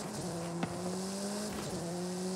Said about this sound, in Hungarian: Bár szerintem ennek az autónak nagyon tompa a hangja.